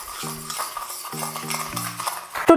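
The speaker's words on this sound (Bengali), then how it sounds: "এবার আমি আরও 2 মিনিটের জন্য এটাকে ফেটিয়ে নেব।" Instant coffee, sugar and a splash of warm water are hand-whisked for a homemade cappuccino. The whisk gives a steady scraping rhythm beneath sustained tonal background sounds.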